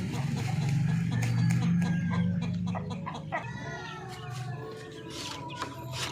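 Backyard hens cluck and murmur close by while small chicks peep in high thin bursts, a busy farmyard chorus that thins out toward the end, with no speech.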